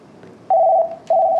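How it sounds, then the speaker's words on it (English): An NEC SL1100 desk phone rings after #8 is dialed, giving two electronic ring bursts separated by a short gap, close and clear with no talking. "when the phone's actually physically ringing, you could adjust the ringer volume here with the navigator key"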